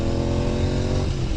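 Motorcycle engines on a group bike ride, with a loud, steady, throaty drone close by that holds unbroken throughout, and no voices over it.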